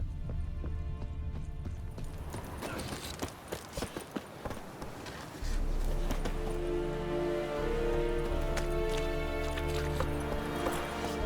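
Roach, a horse in The Witcher 3, clops its hooves in a steady run of sharp, fairly close strikes. Game ambience fills the background and swells louder partway through.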